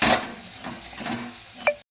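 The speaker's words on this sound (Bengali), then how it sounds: "ডিম আর পেঁয়াজটা এবার একসাথে একটু ভাজা ভাজা করে নেবে" Egg and onion fry together in a pan with a little oil during home-style pasta cooking, giving a soft, steady sizzle with stirring and one brief utensil clink near the end.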